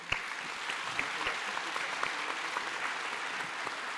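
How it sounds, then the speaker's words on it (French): Steady applause from an audience at a round-table event, a dense even patter of many hands clapping with a few sharper nearby claps standing out, holding at a constant level throughout. "Bravo, on peut vous applaudir."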